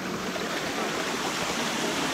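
Steady, dense rushing of falling water from a Damajagua waterfall in the Dominican Republic, loud and close, with no other sounds.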